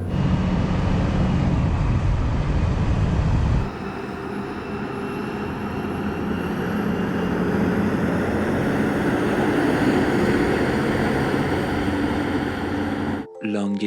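Two 44-ton trucks, a Mercedes and a Scania, drag race side by side, their engines droning steadily in a continuous close roar with wind and cab noise, shifting tone partway through before a brief cut at the end.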